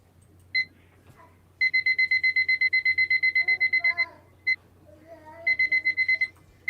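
An auction countdown timer's alarm goes off in rapid electronic beeps, one short chirp and then a long run of evenly spaced bursts, a pause and a final burst, with soft talk in the background.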